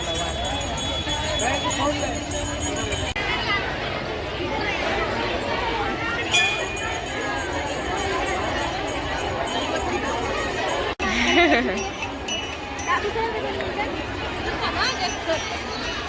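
Dense crowd babble fills a busy Makar Sankranti gathering throughout, steady and close, with scattered clinks and shuffling mixed in.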